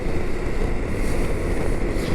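Strong Wyoming wind over 30 mph buffeting a rider on a 2023 BMW K1600GTL motorcycle, a loud continuous roar and rumble of wind noise against the microphone with no talking.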